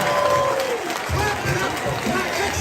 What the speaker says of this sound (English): Clap it up for the ancestors.